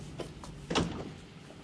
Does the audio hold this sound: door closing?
yes